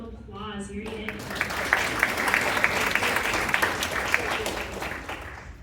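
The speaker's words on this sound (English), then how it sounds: "If you could give him a round of applause, here he is." At a symposium pitch competition, an audience welcomes a presenter with a full round of applause. A brief voice comes first, then many hands clap loudly and steadily for several seconds.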